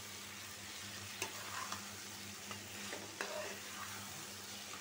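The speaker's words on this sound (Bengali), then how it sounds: "আমি এই যে ভাজা মাংসটা দিয়ে দিব।" Fried chicken pieces go into a pan of spice masala already cooked down in oil, giving a soft, steady sizzle with a few faint clinks of stirring.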